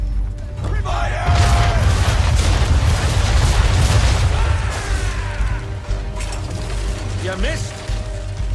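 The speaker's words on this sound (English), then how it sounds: "aim all guns at her bow and do as much damage as possible" Broadside of ship's cannons firing in Assassin's Creed 3, a loud, sustained rumble of overlapping booms and creaking mechanical noise, with whistling projectiles streaking through, close and dense, fading a little toward the end.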